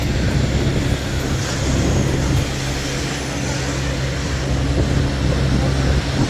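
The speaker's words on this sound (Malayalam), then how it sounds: "ഇതാണ് നമ്മൾ വന്ന ഫ്ലൈറ്റ്" A passenger airplane sits at Hyderabad airport, giving a dense, continuous engine roar with a steady low rumble throughout.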